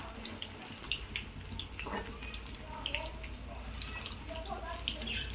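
Potato bhaji fritters deep-frying in hot oil give a steady, hissing crackle with scattered bright pops and bubbling, continuous and fairly close throughout.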